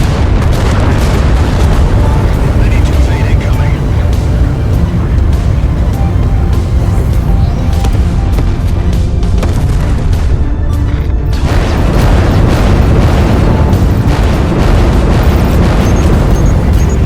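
Missile impacts rumble and boom against a Dreadnought warship in the space combat game Everspace 2, a loud, continuous roar of overlapping blasts with a brief dip near the end before the barrage resumes.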